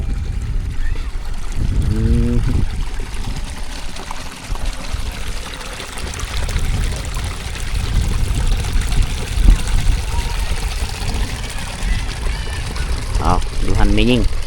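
Water runs and trickles steadily beside rice paddies in a rural Vietnamese border area after rain, a continuous broadband wash with intermittent speech over it.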